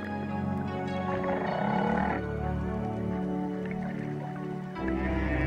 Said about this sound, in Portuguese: as baleias de bossa são as que produzem as vocalizações mais espantosas